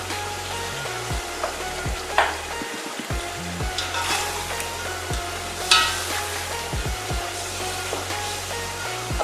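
Shallow-fried chicken stirred into hot masala in a pan, a loud continuous sizzle with rhythmic scraping strokes of a spoon and a few brighter hissing bursts.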